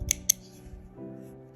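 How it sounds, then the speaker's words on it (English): Two crisp scissor snips cutting crochet yarn, close and clear, followed by quiet handling rustle; no talking. "just want to take your scissors and be careful as you snip"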